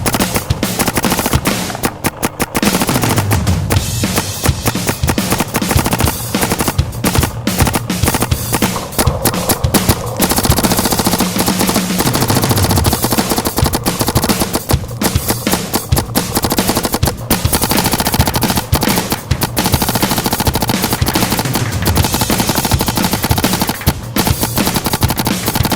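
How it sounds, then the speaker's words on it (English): A paintball marker, a Geo, firing full-auto at 15 balls per second through a Virtue Spire loader, a loud, continuous rapid crackle of shots that runs nearly unbroken for the whole stretch. "Just for fun, I put the Geo up to 15 balls a second. Let's find out if the Spire can keep up."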